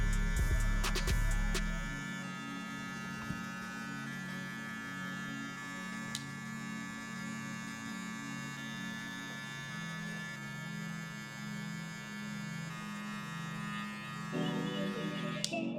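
Electric hair clippers fitted with a number 1 guard, lever at the three-quarter position, buzz steadily close up while blending a low fade, with a brief louder handling bump at the start.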